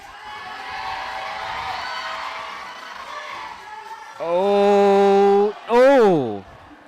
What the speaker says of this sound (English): It's fighting, crowd, lots of crowd noise.